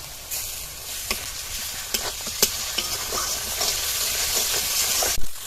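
Grated garlic and ginger fry with browned onion in a pan, giving a steady close sizzle with occasional stirring clicks and sharp spatula taps throughout.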